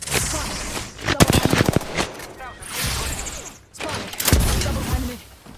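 Rapid automatic gunfire in the Apex Legends video game rattles out in dense, loud bursts, with sharp individual shots and a brief pause between volleys.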